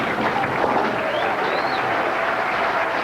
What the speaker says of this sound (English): Enthusiastic crowd here.